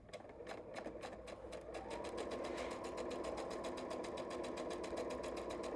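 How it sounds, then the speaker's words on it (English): A sewing machine runs steadily, stitching down the edge of a baby washcloth with a fast, even, rhythmic needle clatter that holds a constant pace throughout, close and fairly quiet. "I'm ready to sew down the side here."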